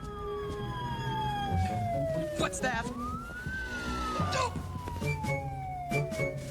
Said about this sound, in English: Is that the police? No, that's an ambulance.